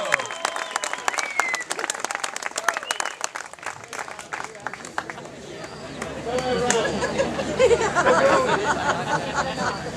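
Crowd applauding at a campaign event, dense clapping with chatter mixed in that settles into a roomy murmur of voices and movement.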